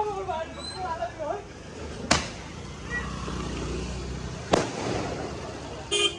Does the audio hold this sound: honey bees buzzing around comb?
no